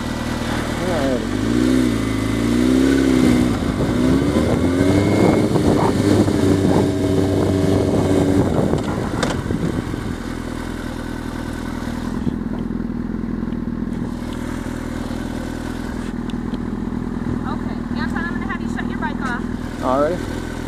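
A motorcycle accelerates during a DMV skills test, its engine revving up through rising and falling pitch sweeps before settling. Afterward it idles more quietly, with people talking throughout.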